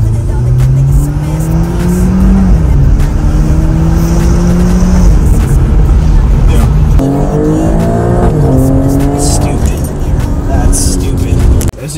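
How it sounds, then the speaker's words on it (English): A tuned, fully modified 2-liter engine in an Alfa Romeo Stelvio Quadrifoglio revs loud and close, the pitch climbing and dropping through several sustained pulls with no talk over it. "So this is what a tuned 2 liter sounds like."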